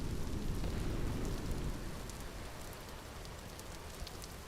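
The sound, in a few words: rain and thunderstorm in Vintage Story video game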